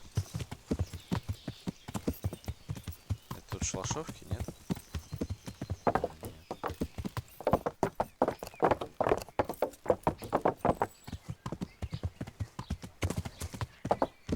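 A horse is ridden at a steady pace in the medieval role-playing game Kingdom Come: Deliverance. Rhythmic hoof clip-clops continue throughout, close and distinct, while someone talks over them at times.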